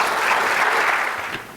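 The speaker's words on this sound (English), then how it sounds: "How about another round of applause for Leah?" Applause from a morning school symposium audience, a dense, even burst of many hands clapping that stays loud throughout, then thins and fades slightly at the end.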